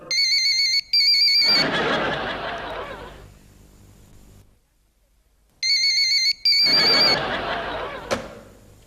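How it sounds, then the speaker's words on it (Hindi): A telephone rings with an electronic trilling bell, two separate bursts of ringing a few seconds apart, each trailing into a hollow reverberant decay in a room, with no talk over it. "फिक्र ना करें, अब बेल नहीं होगी।"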